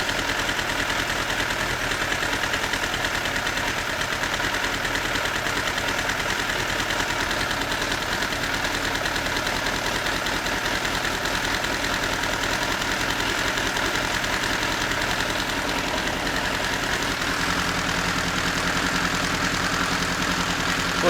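A Suzuki GSX-R motorcycle engine runs steadily with a rattle, giving a loud, continuous mechanical drone with a busy knocking texture that holds throughout and shifts slightly in tone near the end.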